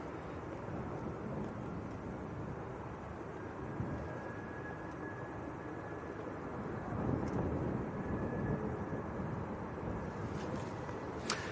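Loganair Embraer 145 jet at Manchester Airport, in from Aberdeen, heard as a steady broadband roar with a faint whine, swelling slightly toward the end, with wind noise over the microphone.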